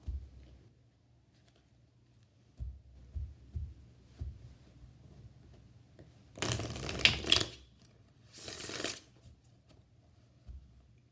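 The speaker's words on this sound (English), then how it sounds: "Everything, of course, is always pre-shuffled." Tarot cards from a Mermaid Tarot deck are shuffled close up in a quiet room. Two short riffling bursts follow some scattered soft taps and handling noises.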